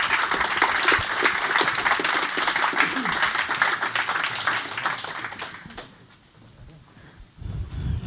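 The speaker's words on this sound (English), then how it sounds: "Please, a little applause for them." Audience applause at the Connected River kick-off event in Amsterdam: dense, lively clapping from a crowd that carries on for several seconds, then fades away.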